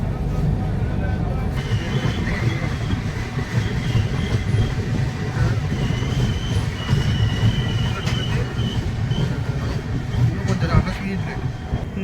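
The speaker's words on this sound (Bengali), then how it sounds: "ট্রেনটা একটা কার্ভ নিয়ে হাওড়া খড়গপুর লাইন থেকে আলাদা হচ্ছে" Aboard the Tamralipta Express as it curves off the Howrah-Kharagpur line toward Tamluk, a steady low rumble of wheels and carriages rolls on, with faint squealing tones from the curve and a brief voice in the background.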